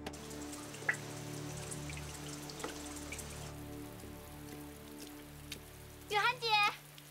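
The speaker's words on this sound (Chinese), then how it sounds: "燕儿，下这么大雨，你怎么跑这儿来了？" Heavy rain pours steadily throughout an indoor-outdoor drama scene, a continuous hiss with scattered drips, while faint tonal background sound hums beneath and brief voices rise near the end.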